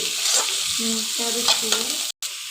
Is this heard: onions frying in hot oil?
yes